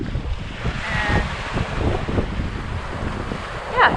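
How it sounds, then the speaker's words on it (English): Strong wind and waves buffet a sailboat at sea, a loud, steady broadband rush with gusting wind noise on the microphone and no speech. "yeah, got some good wind."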